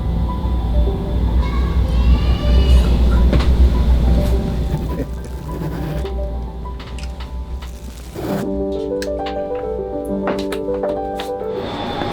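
Rumbling Korean SRT train noise with heavy low-end drone, then a quieter stretch and tonal hums and clicks as the train runs on.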